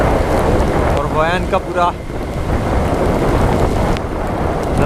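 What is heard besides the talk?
heavy rain and thunder while riding from Hoi An to Danang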